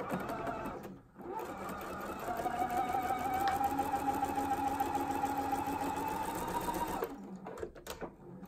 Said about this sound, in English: So now I'm going to just sew diagonally across from this point to this point.